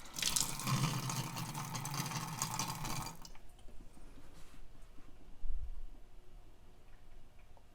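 Water runs steadily from a supply line just after the shutoff valve under a sink is opened for a hot water dispenser, a broad hiss for about three seconds that then cuts off to quiet with faint drips.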